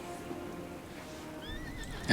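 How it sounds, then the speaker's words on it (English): A horse neighs in the World of Warcraft video game, its rising whinny ringing out near the end over a low, steady background hum of the game world, with no voices. "And where's my horse? There we go."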